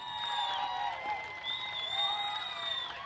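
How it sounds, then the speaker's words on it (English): Steady applause from a crowd, moderately distant, for a New Zealand group's performance at Festpac 2016 at Dededo Farmer's Co-op, with a few whistles and cheers rising above the clapping throughout. "with that loud applause"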